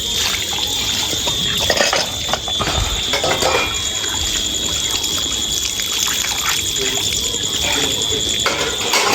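Tap water runs steadily into a sink while a large pile of dishes is washed after a family feast, a continuous close trickle and splash lasting throughout.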